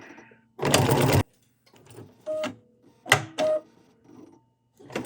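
A BERNINA sewing machine stitching decorative stitches: a loud near burst of rapid stitching followed by several short, separate stitching spurts with quiet pauses between.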